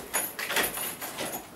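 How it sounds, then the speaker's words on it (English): A balcony door slides and rattles open with several scraping, clattering bursts, loud and close, with no talk over it. "It is a balcony door, people."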